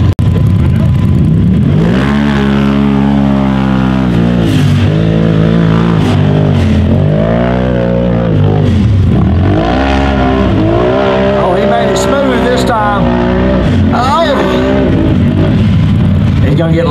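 A UTV engine in a pro rock-crawling race revs hard and unevenly as its wheels spin, loud and close, with a commentator talking over it throughout.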